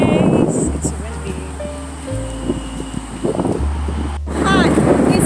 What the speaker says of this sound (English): It's windy in our place. It's windy.